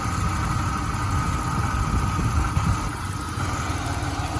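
A 1990 Pontiac Grand Prix STE's 3.1 liter multi-port fuel-injected V6 idles close by, a loud, smooth and even low rumble.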